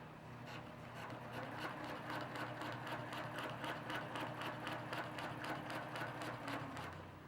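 A sewing machine stitches a quilt row alongside a ruler, a steady, rapid, even needle pulse running close and fairly quiet throughout, with no talking.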